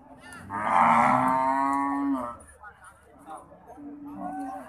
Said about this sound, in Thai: สังเกตการตลาดวัว